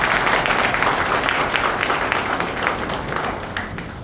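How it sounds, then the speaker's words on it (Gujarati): Audience at a public gathering applauding officials, with dense, sustained clapping from a sizable crowd that holds steady before slowly tapering off. "એટલે તમે છે ને મારા વતી એ બધા અધિકારીઓને તાળીઓથી વધાવો."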